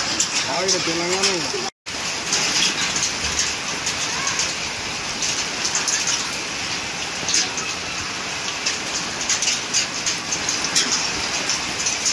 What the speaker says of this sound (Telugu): ఈదురుగాలులతో కూడిన ఈ వడగళ్ల వాన